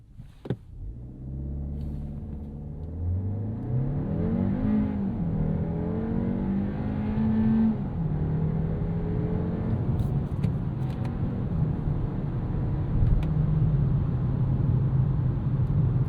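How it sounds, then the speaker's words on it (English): A 2026 Kia K4 turbo hatchback launches off the line, its engine note rising steadily through the revs in a close, loud, sustained run with no talk. "We can also get this off the line real quick."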